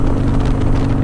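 Harley-Davidson Softail Sport Glide with a Stage II upgrade running at about 3,000 RPM in third gear, a loud, steady, deep engine drone with a low throbbing rumble for about a second.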